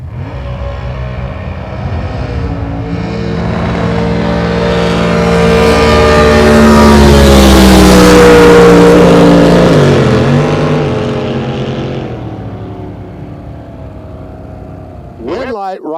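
Drag race cars launch and roar down the strip at an NJBA season opener elimination day, a loud engine rumble that swells to a peak mid-run and fades as they pass into the distance.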